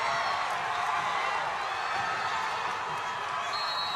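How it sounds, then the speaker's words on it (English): A school gym crowd at a volleyball match, a continuous wash of voices and cheering filling the hall during a timeout, steady and moderately loud with nearby chatter. "Listen to this crowd."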